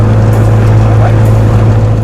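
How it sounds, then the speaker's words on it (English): Mitsubishi Evo 8 under way, its engine holding a steady, loud drone with a thin turbo whine running continuously through the whole stretch, close and unbroken. "I hope you guys can hear the whine, because the whine is, to me, sound-wise of the car, is the best part."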